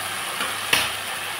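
Onions and mustard paste frying in a pan, a steady low sizzle with a brief louder burst of crackle midway, close and alone.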